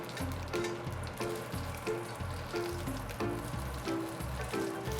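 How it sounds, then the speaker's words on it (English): Oysters sizzle as they pan fry in avocado oil, a soft steady crackle with faint rhythmic thumps and tones running beneath it throughout. "We want to make sure that the oysters are fully coated and pan fried in the avocado oil"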